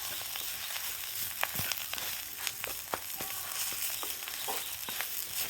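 Bitter gourd sautéing in a pan, with a steady close sizzle of frying broken by occasional sharp crackles and pops and soft stirring scrapes.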